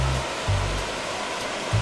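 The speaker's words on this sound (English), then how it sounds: "so water flows into the lock." Water pours steadily into a river lock, a continuous broadband rushing roar that stays even and close, with a few brief low thumps of wind or handling noise and no voices.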